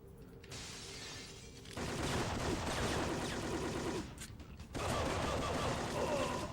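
Gunfire in the Syphon Filter video game, dense bursts of rapid shots in two long stretches separated by brief pauses, loud and continuous without speech.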